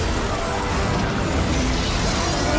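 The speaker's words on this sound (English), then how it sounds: "he causes explosions just by punching the ground" A giant monster in a fantasy battle game punches the ground, setting off a continuous, dense roar of explosions and rumbling blasts that fills the whole moment with no pause.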